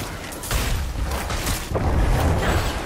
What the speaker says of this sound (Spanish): Explosión de cadáveres a punta pala y adiós.